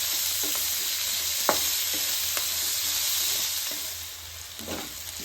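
Onions with curry leaves being stirred and sautéed in a pan for hotel-style masala dosa: a steady close sizzle with scattered spoon scrapes and clicks against the pan, fading slightly toward the end.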